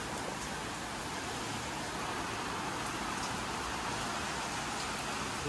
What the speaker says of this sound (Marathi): लईच पाऊस आला.